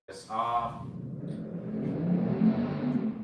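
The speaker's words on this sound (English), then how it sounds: "someone got the big engine outside. I don't know if y'all heard that." A big-engined car revs outside, a low steady rumble that swells toward the end after a brief voice at the start, heard from a distance through walls.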